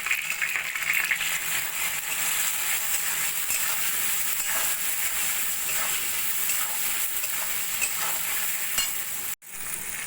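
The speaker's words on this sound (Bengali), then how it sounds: "আগে থেকে কেটে রাখা আলু আলু দু তিন মিনিট মতো ভেজে নিয়ে দিয়ে দেবো" Pre-cut potatoes fry in oil in a pan for vegetarian jhinge posto, a loud continuous hiss and sizzle with faint stirring scrapes and a brief dropout near the end.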